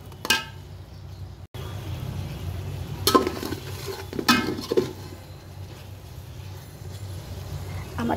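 Chicken wings tossed and mixed into sauce in a bowl, giving soft wet squelching and a few clinks and scrapes against the dish over a faint background hiss.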